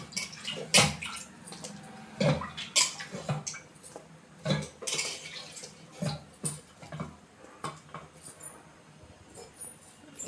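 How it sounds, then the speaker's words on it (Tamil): Water poured into a cooking pot while making a banana-stem stir-fry, splashing in several bursts against the metal, close by, with clinks of the vessel in between and no talking. "இதில் அப்படியே கொஞ்சம் தண்ணி ஊற்றிக்கலாம்."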